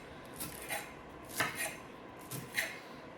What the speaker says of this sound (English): cutting works nicely today with this knife